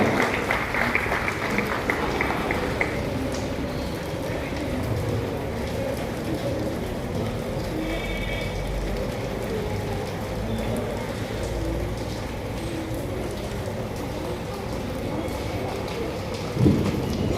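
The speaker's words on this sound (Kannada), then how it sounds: "Shall we all clap our hands and just welcome here Cardinal Bishop Kirbakan Paul." A church gathering gives sustained applause to welcome Cardinal Bishop Kirbakan Paul, a steady wash of many hands clapping from a moderate distance that lasts the whole stretch, with no voices over it.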